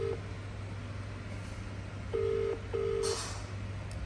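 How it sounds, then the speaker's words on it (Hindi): Phone ringback tone while calling someone, two long steady beeps following a brief one at the start, clear over a low steady hum with no talk. "मैं कर रही हूँ पाई को कॉल और पूछ रही हूँ कब तक आओगे पाई।"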